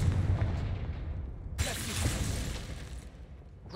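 Spell explosions in the wizarding game Hogwarts Legacy, a series of heavy booms and blasts with a sharp bright crackling burst in the middle, loud and close over a rumbling background.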